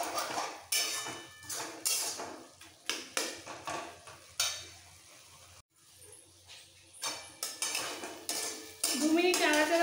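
A spatula scrapes and knocks against a pot in a steady run of strokes, stirring a Bengali banana flower curry cooked with mutton fat, with metallic clatter over a faint sizzle and no talking.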